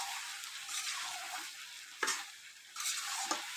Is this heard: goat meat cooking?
yes